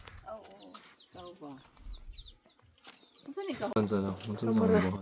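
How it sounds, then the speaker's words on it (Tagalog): Farm chickens cluck and squawk in short bursts at close range, mixed in with people talking nearby. "The chickens are here."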